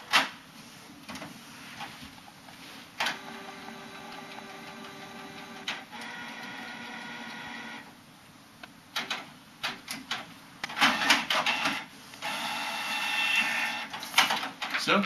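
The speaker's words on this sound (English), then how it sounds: "soon it'll be printing out on the printer here." A printer runs through a print job of a typed document, with buzzing head passes, whirring paper feed and mechanical clicks stopping and starting over several seconds, while a person talks at times.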